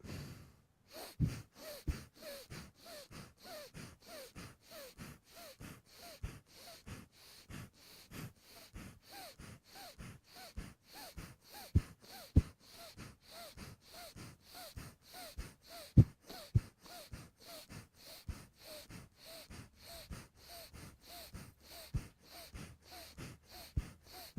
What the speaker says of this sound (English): So inhale the right, exhale the left.